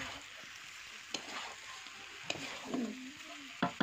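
Jackfruit curry with homemade garam masala is stirred in a pan, soft scraping strokes over a faint sizzle, with a few louder clinks of the spoon against the pan, close and unhurried, without speech.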